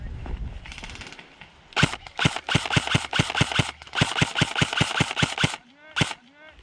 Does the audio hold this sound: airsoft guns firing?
yes